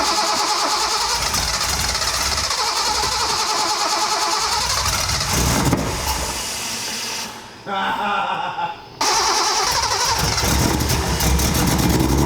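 A Mazda Miata engine, just reinstalled after repair, runs loud and close with a steady churning idle, briefly dipping as if shut off and restarted before running on again, with voices talking over it.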